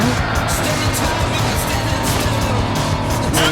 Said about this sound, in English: the car sounds aren't even that bad either